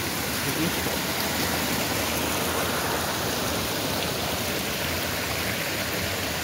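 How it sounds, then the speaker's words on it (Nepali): Steady, loud rush of a small stream swollen by flooding fills the whole clip without a break, pouring past close by. "पानीको बहाव निकै बढेको छ। साना खरे खोलाहरू पनि बढेर यत्रो भइरहेको छ।"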